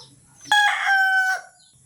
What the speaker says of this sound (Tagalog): tumaraok uli yung manok